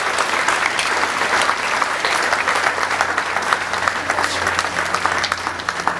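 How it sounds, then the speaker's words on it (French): Audience applause at a 2019 church evangelization campaign gathering: a dense, steady wash of clapping fills the whole stretch at even loudness, with no talk over it. "un autre berger du nom de Emmanuel Djiboun, que j'invite à me rejoindre sous vos acclamations."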